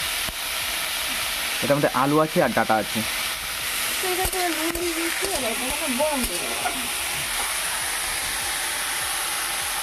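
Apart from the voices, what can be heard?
modern stove making a gas-like hissing sound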